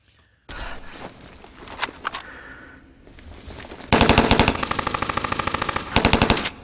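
Sound-design gunfire effects: scattered single shots and thuds at first, then a sustained loud burst of rapid machine-gun fire with a brief pause before it resumes, no voices.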